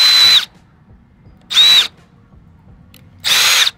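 A power drill runs in three short, loud bursts of whining high-pitched motor noise separated by pauses, used while installing a turbo on a Jeep Grand Cherokee.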